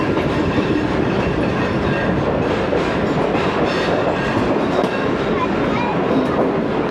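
Karakoram Express passenger train rolling slowly through Tando Adam Junction, a steady, dense rumble of wheels and carriages with faint rhythmic clatter throughout, heard from inside the train.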